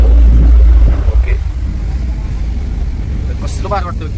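A Mahindra Thar driving beside the Krishna River, its engine and road rumble loud and close at first, then settling into a steady lower drone while voices chatter faintly.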